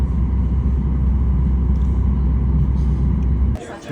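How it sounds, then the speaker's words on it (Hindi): A suction truck clears laboratory waste through a pipe, giving a loud, steady low engine rumble that drones on without a break and cuts off abruptly near the end. "ये गाड़ी आती है, पीछे से पाइप लगाती है उसमें और सब सेंक्शन हो जाता है ना"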